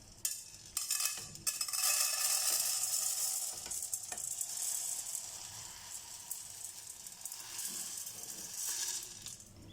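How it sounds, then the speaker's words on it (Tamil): Lentils dry roasting on a flat tawa for sambar powder, a steady rustling sizzle with scraping stirs and a few clinks from the utensil, louder early on and easing off before a final swell. "இந்த பருப்பு வறுத்து எடுத்துக்கலாம்."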